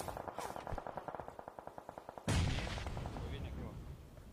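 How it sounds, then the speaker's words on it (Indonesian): Rapid gunfire in a battle royale shooter game, a quick steady string of evenly spaced shots followed by a louder heavy blast, moderately faint and fairly close, with little talk over it. "Budak agak kan tembak aku."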